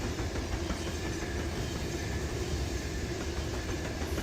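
In the Run 8 train simulator, a Z train rolls past with a continuous dense rumble and faint clickety-clack of wheels on rail, steady and fairly loud throughout.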